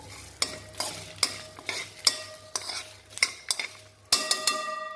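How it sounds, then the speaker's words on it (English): A sambar spice mixture dry roasting in a pot while a spoon stirs it, producing regular metallic scrapes and clinks against the pot over a faint sizzle, close up and without talk. "is starting to turn brown. Can you see that? So that means it is getting roasted."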